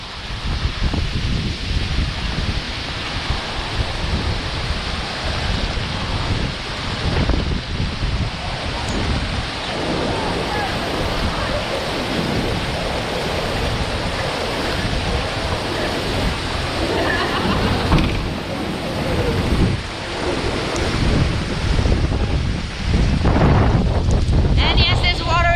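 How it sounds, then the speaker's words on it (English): Salt water from the sea splashing over a seawall in Key West during Hurricane Ian, mixed with rain and heavy wind buffeting the microphone, a loud continuous rushing wash close by with surges throughout. "mainly salt water over here because it's splashing over the wall"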